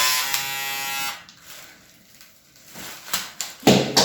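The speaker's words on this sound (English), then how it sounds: "All right, clippers are back." Steady electric hair clippers buzz loudly for about a second, then cut out, leaving quieter rustling and handling noises before a brief loud clatter.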